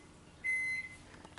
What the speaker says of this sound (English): That was the microwave cooking me a potato.